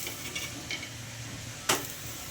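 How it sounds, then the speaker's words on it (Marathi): Fenugreek flatbread roasts in oil on a hot iron griddle, giving a soft, steady sizzle with faint scraping and one sharp utensil clack near the end, with no voices. "गरम तवा झाला आहे त्यामुळे भाजी भाजूया तेल लावून भाजायचं आहे तेल लावलं छान कडक क्रिस्पी होतात"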